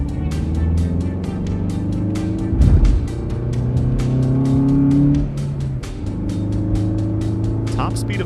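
A Lamborghini Revuelto supercar's engine drones and revs loudly and steadily throughout, swelling in a louder burst near the middle before settling back to a sustained roar.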